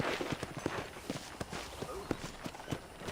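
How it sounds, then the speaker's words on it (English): Horse hooves clip-clop at a steady walking rhythm in the Western video game Red Dead Redemption, a string of fairly close, moderate hoof knocks with faint background ambience. "I picked out a fine horse for you."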